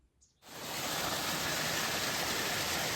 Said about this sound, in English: That's a pretty nice creek.